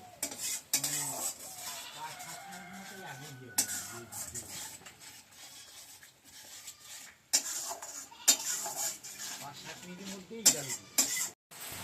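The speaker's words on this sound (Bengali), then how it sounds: "সব মশলাই কষে গেছে, টক দই দিয়ে দিয়েছি, এটা আরেকটু কষলেই জল দিয়ে দেবো।" Spices and sour curd being stirred and sautéed in a pan for Bengali doi katla, a spoon scraping and clinking against the metal with a faint sizzle underneath, close by and irregular.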